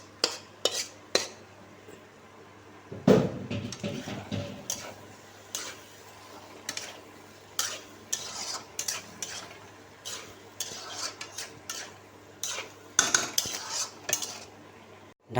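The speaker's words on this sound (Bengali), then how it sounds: "এবার এটাকে কিছুক্ষণ কষিয়ে নেব।" Fried okra is stirred and sautéed in a posto (poppy seed) curry in a pan: a utensil clinks and scrapes against the metal in irregular bursts over a faint sizzle.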